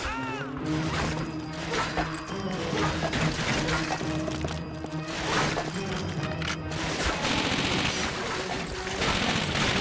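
German machine gunners in the Call of Duty: Finest Hour World War II shooter rattle off dense, continuous automatic bursts, loud and close, mixed with crashes and battlefield clatter throughout.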